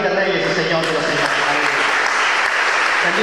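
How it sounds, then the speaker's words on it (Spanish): A church congregation at a Christian wedding breaks into loud, sustained clapping that fills the space, with a voice speaking over the applause. "¿Por qué no damos una ofrenda de palmas al Rey de Reyes y Señor de los Señores?"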